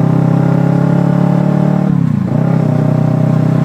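Loud aftermarket exhaust droning on a steady high idle rev, then a quick dip and recovery in pitch as the throttle changes, close and strong with no voices.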